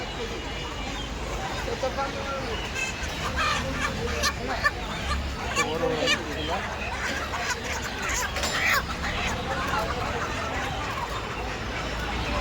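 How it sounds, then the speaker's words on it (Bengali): A vehicle crammed with red broiler chickens clucks and squawks in a steady jumble, with busy crowd chatter and voices of nearby people running under the birds throughout. "এই লোকের গাড়ি ভর্তি মুরগি।"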